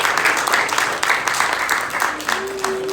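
Audience applause at an event, a dense wash of many hands clapping close and steady throughout, with a faint voice or tone entering near the end.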